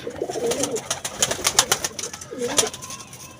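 A Teddy pigeon coos close by, two low throaty calls separated by sharp clicking and fluttering sounds.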